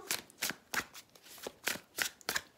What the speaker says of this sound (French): Allez, on va prendre une carte